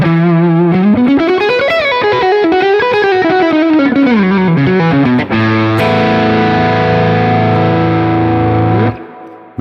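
A 1970s Gibson Les Paul electric guitar on its neck pickup, played loud and close through a distorted, effects-laden amp: sliding melodic lines give way to a sustained, ringing chord that fades out.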